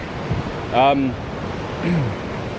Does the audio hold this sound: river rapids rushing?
yes